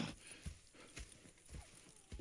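Horse hooves clip-clopping at a walk in Red Dead Redemption 2, a handful of soft irregular thuds, faint and distant, with no voices.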